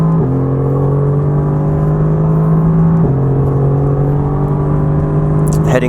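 A Mercedes-AMG GT R engine pulls hard on a Nürburgring Nordschleife taxi lap, a loud sustained drone rising in pitch, dropping at two gear changes, then climbing again.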